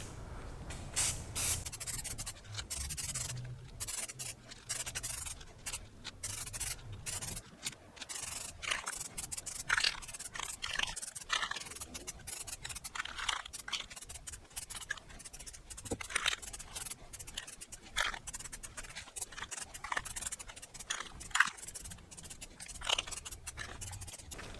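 Spray paint hisses onto an old bathroom towel bar in a series of short and longer bursts, up close and sharp, with brief pauses between passes.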